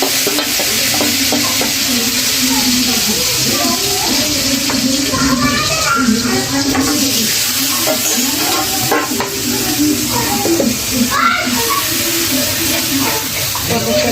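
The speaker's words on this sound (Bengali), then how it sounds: "এখন এই মশলাগুলো ছেড়ে দিলাম।" A spice mixture for curry sizzles and fries in a pan with a steady, loud hiss, punctuated by stirring scrapes, continuous and close throughout.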